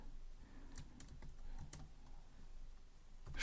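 Code is typed on a computer keyboard in quick, irregular clicking keystrokes, close and fairly quiet with nobody talking.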